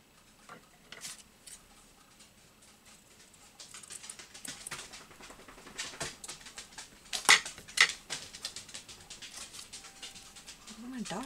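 An excited dog whimpers faintly and patters its feet around a quiet indoor craft room, with soft scattered taps and clicks building toward a few louder bursts near the end.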